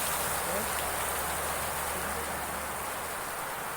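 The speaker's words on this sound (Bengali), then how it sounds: "খালি বৃষ্টির আওয়াজ শুনো" Heavy rain falls in a constant, dense roar of drops on surfaces, loud and near, holding steady without pauses.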